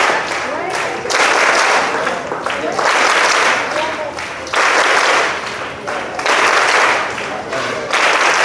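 Schoolchildren clapping in unison at a pledge ceremony for a pollution-free Diwali, loud close bursts of many hands arriving in repeated rhythmic waves separated by brief lulls.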